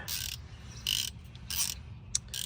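A socket wrench ratchets with an 11 socket while cracking loose a brake hose fitting on a Pontiac Fiero GT, producing four or five short, bright bursts of clicking close by, spaced evenly, with no voices.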